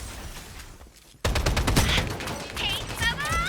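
Gunfire from a shooter match in the Strinova video game, with a quieter stretch and then a loud burst of rapid shots and clatter from about a second in, layered with game effects and chirping tones.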